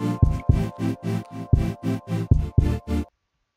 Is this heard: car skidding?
no